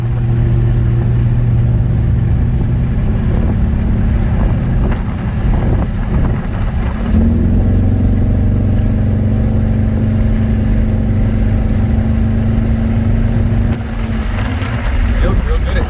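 A chopped 1951 Ford F1 pickup with a 4-inch chop and custom chassis cruising at speed, its steady engine and road drone mixed with wind rush, holding loud and continuous throughout with a brief shift partway through.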